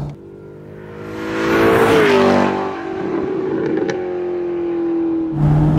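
A high-revving sports car engine, capable of over 7000 rpm, climbs loudly in pitch and roars, eases back to a steady drone, then picks up again, heard close and alone.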